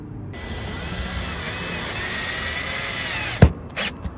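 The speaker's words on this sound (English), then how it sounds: "the remainder of these screws are gonna go in here, in these holes, to secure the vent down" A power drill drives screws into an RV roof vent, whirring continuously at close range for a few seconds before stopping with a couple of short knocks and clicks.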